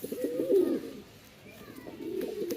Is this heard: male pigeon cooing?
yes